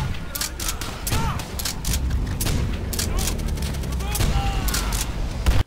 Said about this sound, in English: like a sawed-off trench shotgun